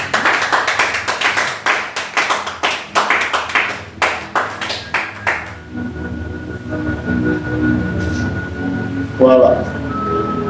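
Church congregation at a Sunday service clapping in rhythm for about five seconds, loud and close, then the clapping stops and voices and soft music carry on.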